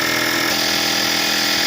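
A power tool works on the front knuckle of a 2004 Toyota Sienna, a loud, continuous whirring and buzzing drone held steady for under two seconds, close up with no voices.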